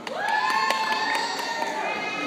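A crowd at a seal show cheers and shouts with children's voices mixed in, a steady moderate roar with sharp whistles rising over it.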